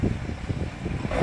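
A BMW X6 35i M Sport's 3-liter twin-turbo engine revs in a short, low, rumbling burst that swells slightly toward the end, with some wind-like noise over it.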